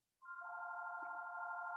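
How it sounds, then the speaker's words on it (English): A telephone rings nearby with a steady electronic warbling tone that starts abruptly and holds without pause, faint and alone in a quiet room. "I'm sorry, you guys can hear that phone."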